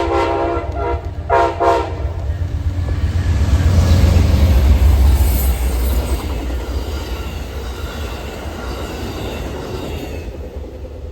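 An Amtrak P42DC locomotive in Phase 7 Heritage livery passes on a Massachusetts commuter line, a loud rumbling roar that builds and fades across the whole stretch, with brief horn-like tones near the start.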